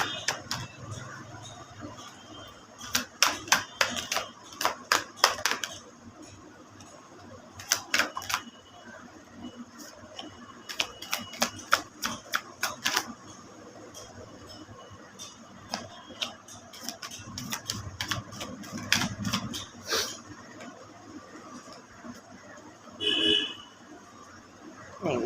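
Tarot cards are shuffled, giving bursts of rapid crisp riffling clicks with pauses between them, close and fairly quiet, and someone talks softly at times.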